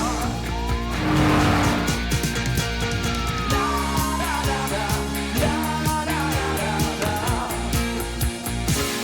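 White sports car passing with engine revving and tire squeal, loud and close, with rapid rhythmic clatter and shouting over it.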